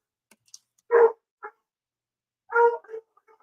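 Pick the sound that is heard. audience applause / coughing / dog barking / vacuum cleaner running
dog barking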